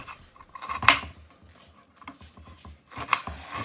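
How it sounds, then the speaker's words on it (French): Quick knife chops dicing an onion into small pieces on a board, close and fairly quiet, with a couple of brighter metallic clinks in between. "Puis pareil pour l'oignon, je le coupe en tout petits morceaux."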